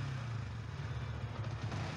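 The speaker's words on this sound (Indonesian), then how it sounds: "Kita panaskan dulu sedikit mesin biar oli naik" A Yamaha Vixion motorcycle engine idles steadily while warming up after a clutch plate replacement, a constant low rumble close by and alone.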